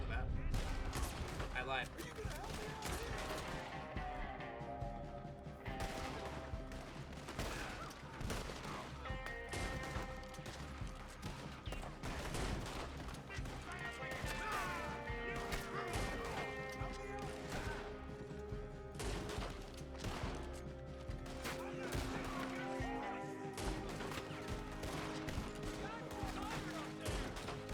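Shots ring out repeatedly through a shooter video game match, sharp bursts scattered across the stretch over steady game sound and music, with a player talking now and then.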